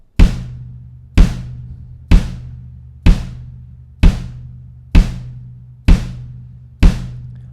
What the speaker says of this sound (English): we're going to play bass drum on all 4 quarter notes on beats 1,